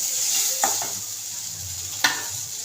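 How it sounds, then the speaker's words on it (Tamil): Okra (ladies finger) stirred in a dry kadai with no oil, a soft constant sizzle with a few sharp scraping clicks of the spatula against the pan, close and alone without talk. "ரசம் வெண்டைக்காய் ஃப்ரை வெறும் கடாயில் எண்ணெய் எதுவும் சேர்க்காமல் நல்லா அந்த வளவளவுக்கு போகிற வரைக்கும் நம்ம வதக்கிக்கணும்."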